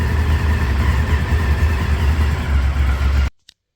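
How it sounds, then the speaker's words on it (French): Close, loud motorcycle engine idling with warm oil before an oil change, a steady low rumbling putter for about three seconds that then cuts off abruptly into silence. "une fois que tu as été émerveillé par le son de ta moto qui tourne au ralenti"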